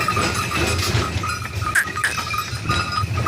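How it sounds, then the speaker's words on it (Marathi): A flock of sheep moves past with steady shuffling noise and two sharp bleats rising above it. "आता मागं बी आपले मेंढ्या येत आहेत"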